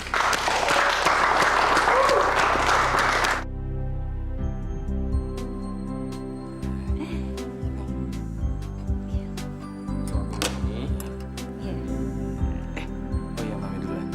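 Loud applause fills the first few seconds and then cuts off abruptly, followed by quieter background sounds and soft voices.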